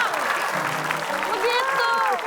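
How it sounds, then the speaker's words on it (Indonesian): A studio audience at a TV quiz show tournament claps in a short burst of applause while voices talk and exclaim over it. "Tepuk tangan dong."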